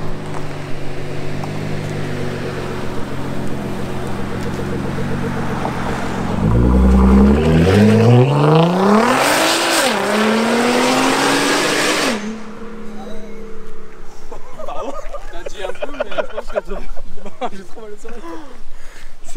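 A Nissan GT-R supercar idles with a low burble, then launches hard, its engine rising in a loud climbing rev through gears before cutting off and fading; people talk nearby throughout.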